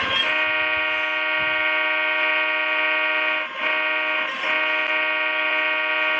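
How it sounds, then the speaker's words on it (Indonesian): Train driver sounding a horn at the 1999 Rejosari rail accident site: one long, loud, steady multi-tone blast lasting about six seconds, with two brief dips in the middle. "Namun masinisnya memberi klakson."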